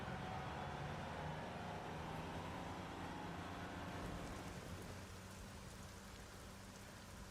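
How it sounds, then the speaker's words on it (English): Steady rain pattering in a video game scene at night, a dense even hiss that holds throughout with a low rumble of traffic beneath, faint and continuous with no voices. "it's cats and dogs tonight, and I hate the rain"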